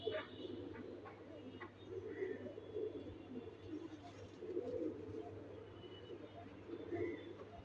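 Napta-style pigeons coo in soft, repeated rolling bursts at a moderate distance over a low steady hum, with a voice faintly in the background.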